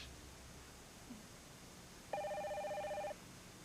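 A telephone bell rings once in a quiet indoor soap-opera scene, a single clear electronic ring lasting about a second after faint background sound.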